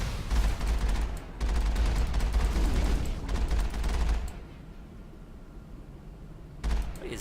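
Gunfire aimed at the player in the Mass Effect video game: dense, loud volleys of shots for about four seconds, then near silence, with one short burst close to the end.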